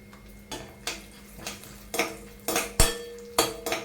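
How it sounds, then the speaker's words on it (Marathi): A spatula knocks and scrapes inside a kadhai as dry fruits are sautéed in ghee, giving a run of irregular metallic clinks and clanks, close and fairly loud, with no talking. "हे ड्रायफ्रूट आहेत ना ते आपल्याला जरा परतून घ्यायचे आहेत"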